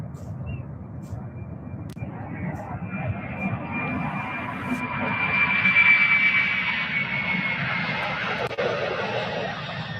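A Boeing 767-300 jet rumbles at UPS Worldport in Louisville, a steady distant engine roar that swells gently toward the middle with a faint whine above it, heard outdoors.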